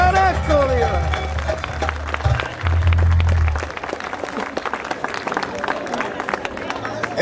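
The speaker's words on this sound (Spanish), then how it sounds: "agradecer con energía, con muchos aplausos" A festival audience at a verbena claps with energy for a performer, dense applause spreading through the crowd over music and babble, with voices mixed in.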